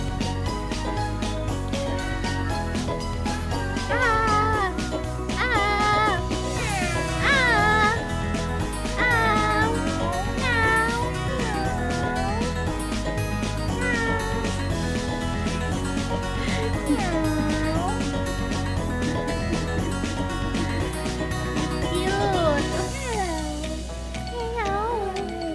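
Cats meowing and yowling in a drawn-out back-and-forth that sounds like a fight, the cries rising and falling repeatedly over a steady background hum.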